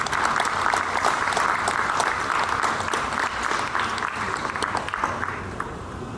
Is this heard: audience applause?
yes